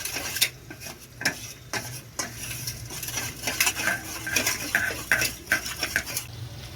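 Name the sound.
stirring chili chicken sauces with water in a pan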